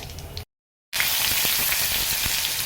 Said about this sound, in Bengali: পেঁয়াজগুলো একটু ব্রাউন করে ভেজে নিতে হবে